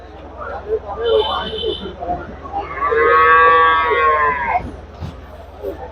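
Cattle low loudly, with a long drawn-out moo dominating the middle, amid other animal calls and some background voices.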